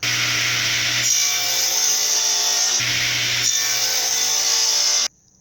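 Power saw ripping a wooden board planed to about three-quarter inch thickness down to just under three inches wide, a loud steady cutting roar with two brief dips mid-cut, stopping abruptly near the end with no talk.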